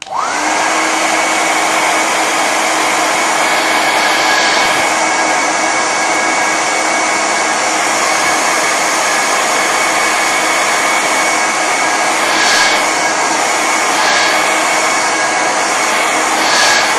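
A hair dryer blowing on wet watercolour paint, a loud, steady close-up whir with a high whine that runs unbroken throughout.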